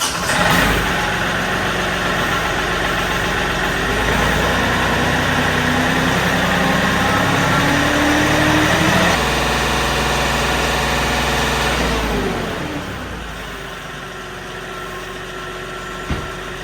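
Kioti NX5510 compact tractor's diesel engine catches and settles into a steady, loud idle near the microphone, its low rumble holding evenly before easing to a quieter idle near the end.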